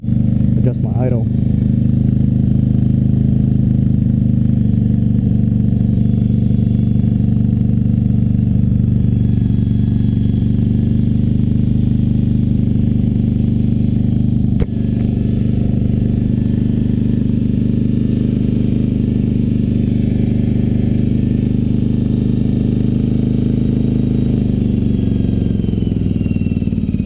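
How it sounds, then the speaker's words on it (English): A Yamaha Virago 750 motorcycle engine idles steadily and loudly at close range as the idle is adjusted, a continuous low throbbing rumble with a brief click partway through and a slight drop in tone near the end. "the bike is idling pretty high, so I'm gonna adjust my idle."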